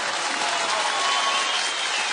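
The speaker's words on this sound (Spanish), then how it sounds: "aplauso para las mujeres." A theatre audience at a live comedy monologue show claps steadily, a dense, even applause that fills the whole short moment without a break.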